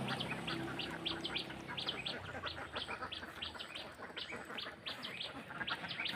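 A flock of native ducks on a farm pond calls in a dense, continuous chorus of overlapping rapid quacks, fairly close and loud throughout.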